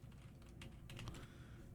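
Quiet typing on a computer keyboard: a quick run of soft, irregular key clicks over a low background rumble, with no voices.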